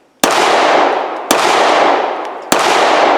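Three loud, sharp shots from a Smith and Wesson Performance Center Shield Plus pistol at close range, spaced about a second apart, each followed by a brief ringing decay.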